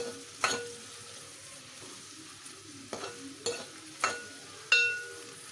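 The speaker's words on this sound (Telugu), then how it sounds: "ఉల్లిపాయలు వేసుకొని బాగా ఫ్రై చేసుకోవాలి." Onions frying in a few spoons of oil for fish curry, a soft sizzle punctuated by about six sharp stirring scrapes at irregular intervals.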